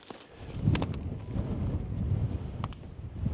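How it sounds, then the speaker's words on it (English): Steady wind buffets the microphone at an icy campsite with a low, rumbling roar that keeps going throughout, with a few faint knocks mixed in. "It's just too windy, and I don't want to risk it."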